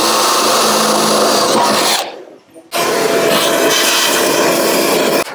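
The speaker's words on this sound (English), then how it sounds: "We're just going to drill through with an 8mm drill bit." A power drill with an 8mm bit whines loudly at a steady pitch drilling through metal on a Land Rover, stops briefly, then starts again and runs at full speed.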